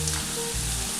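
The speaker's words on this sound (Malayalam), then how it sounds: "നമ്മളിങ്ങനെ ഇളക്കുമ്പോൾ ഒരു കിളിങ്ങുന്ന പോലെ ഒരു സൗണ്ട് കേൾക്കാൻ തുടങ്ങും." Banana chips frying in hot oil in a pan while being stirred, a dense close crackling sizzle that runs steadily through the short moment without any voice.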